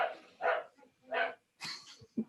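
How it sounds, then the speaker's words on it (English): Dogs bark in a series of four or five short, close barks with small yips between them, spaced unevenly and fairly loud against a quiet background. "It's my dogs, they obviously like it as well."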